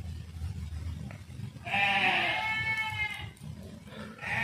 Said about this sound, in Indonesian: ada suara seperti suara kambing ya